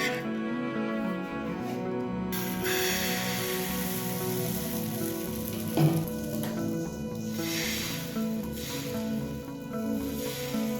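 A thin rice-flour sorucakli pancake fries in a pan with a steady, close hiss and crackle, joined by a faint musical tone, and no talking.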